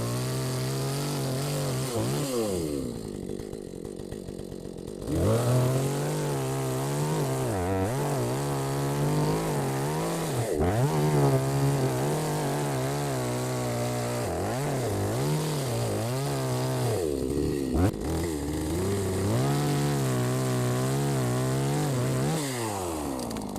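Chainsaw cutting timber during roof work, a loud buzzing two-stroke engine that revs up and down repeatedly as it bites into the wood, with short drops to idle between cuts and no speech.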